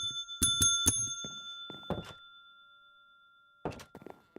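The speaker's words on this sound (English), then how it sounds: "There are actually 3 different sounds the bell makes when I open up the jar file." Several bright metallic bell dings from the Minecraft GTNH modpack, a quick cluster of rings with low thunks, a gap of quiet, then another burst near the end.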